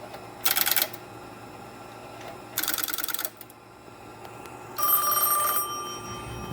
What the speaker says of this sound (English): And that's what made the phone ring.